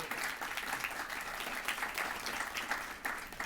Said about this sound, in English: maybe a big round of applause to our individuals who are joining our